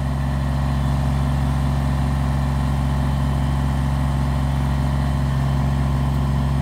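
Tractor with a backhoe attachment idling on a property being cleared; a steady, loud, even engine rumble with no change in pace throughout.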